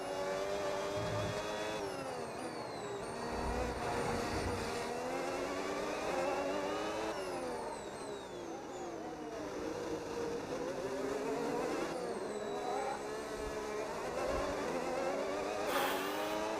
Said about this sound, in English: I like the new sound of the engines.